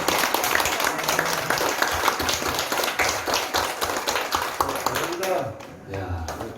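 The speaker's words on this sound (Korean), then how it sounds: "박수 한번 보내드리겠습니다." Church congregation clapping during a Korean Baptist Sunday worship service, a dense steady burst of applause filling the room for several seconds before tapering off, with voices over it.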